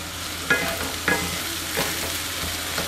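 Chopped capsicum sizzles and gets stir-fried in a hot pan for egg fried rice, a constant hissing fry broken by a few sharp scrapes and knocks of a spatula against the pan.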